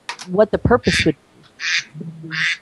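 A phone gives out three loud, nasal duck quacks, spaced evenly apart. The first overlaps people talking on a podcast.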